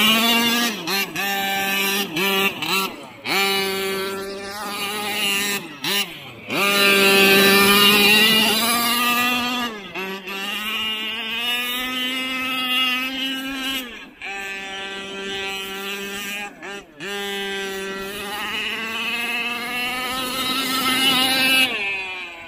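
A 35cc gas engine on a Losi MTXL RC truck revs hard and loud, its pitch rising and falling in repeated bursts, close by with no talking.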